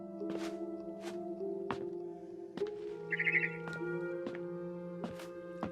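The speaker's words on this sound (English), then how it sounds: "Then I heard chirping outside my window." Sparse bird chirps in the video game What Remains of Edith Finch ring out against a quiet background with steady tonal hums, including a brief fluttering trill in the middle.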